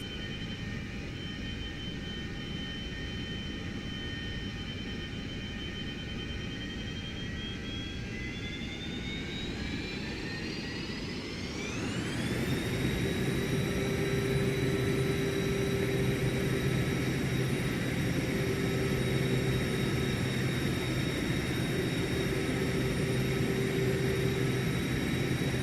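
Jet engines of a Milviz Boeing 737-200 cargo airliner in a flight simulator spool up from a steady idle hum to a loud, sustained takeoff-power roar with rising whine, continuing steadily as the takeoff roll begins on a Canadian Arctic runway.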